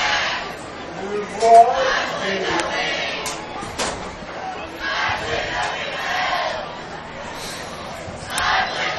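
Crowd in the stands at a varsity high school football game between Crawfordsville Athenians and Greencastle Tiger Cubs, a cheer block yelling and chanting together in a dense, steady roar with louder shouted bursts.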